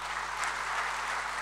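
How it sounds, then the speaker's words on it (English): Audience clapping steadily at a public enterprises conference attended by the President of India, an even wash of applause with a faint electrical hum underneath. "that's you clapping for yourself in the presence of our Honorable President"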